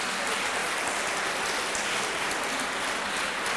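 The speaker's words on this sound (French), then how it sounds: "Béatrice de l'équipe CESAG, sous vos applaudissements." Applause from the audience at a youth debate semifinal, a thick, even roar of clapping that stays loud and constant throughout, like heavy rain.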